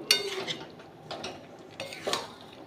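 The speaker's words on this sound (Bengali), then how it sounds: "এটাকে দিয়ে আমি একটু কষিয়ে নেব" Mutton being stir-fried with ghee in a pan during kosha cooking: soft, repeated scrapes and clinks of a spatula against metal at an uneven pace, over a faint, low sizzle.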